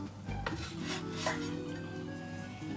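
Cooked ghee paratha shifted from the pan onto a plate, with a brief scrape and clink of a utensil against metal, then a soft continuous rub and faint sizzle.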